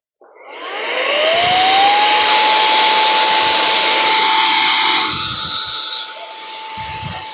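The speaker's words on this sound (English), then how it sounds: "just get an airline or an air duster in there and blow into this, get all that dust out" A canned air duster blasts a long, loud, close hiss of compressed air into a workshop motor to clear out dust, with a steady whistling tone through the spray that drops slightly in level toward the end.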